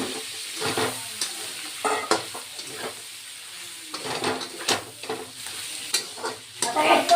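Spices and vegetables, fried earlier, go into a pan for a pointed gourd curry, stirred with repeated scraping strokes over a steady close sizzle.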